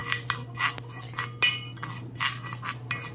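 A metal teaspoon clinks repeatedly against a cup or container while Bru instant coffee powder is spooned in, a series of light, bright taps at an uneven rhythm, close by and alone over a low steady hum.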